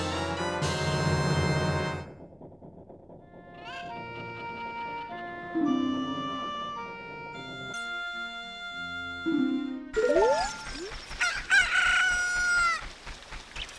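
A pocket cuckoo in The Legend of Zelda: Ocarina of Time gives a loud rooster crow that rises and falls, amid game jingles and chiming musical tones.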